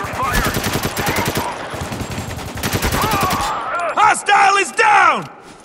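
Rapid automatic gunfire bursts in the war shooter Spec Ops: The Line, loud and close, with shouted voices and groaning calls breaking in toward the end.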